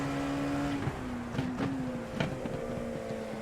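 An LMP2 prototype race car in iRacing at Road America gives a steady, droning engine note with small shifts in pitch and brief bumps of noise, continuous throughout, with no talking.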